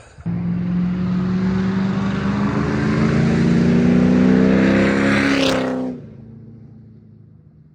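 A single-cab pickup truck engine roars steadily with a deep, Corvette-like exhaust rumble, rising in pitch before cutting off abruptly, leaving a fading tail; no talking.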